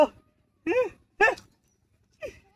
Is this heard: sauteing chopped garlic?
no